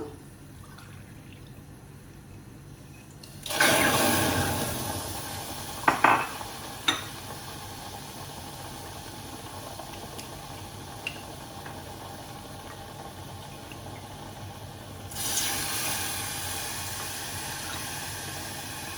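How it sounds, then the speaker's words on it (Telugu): Milk poured into roasted semolina in a hot pan, a sudden loud hissing sizzle with a few sharp clinks that slowly settles into a quiet simmer before another brief burst of sizzling near the end. "1 కప్పు పాలు వేస్తున్నాను."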